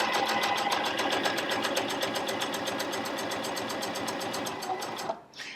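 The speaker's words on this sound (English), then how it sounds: "Put our fabric under there and let's stitch." A Janome Coverpro 1000cpx coverstitch machine sews fabric in a narrow cover stitch, giving a steady, fast mechanical chatter of needle strokes that runs for about five seconds and then stops.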